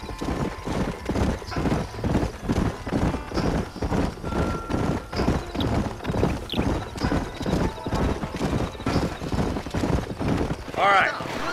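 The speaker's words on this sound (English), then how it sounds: "All right, leave the horses here and follow me." Horses gallop in the Western video game Red Dead Redemption, hooves pounding in a fast, steady rhythm close by, with a horse whinnying near the end and voices talking over the riding.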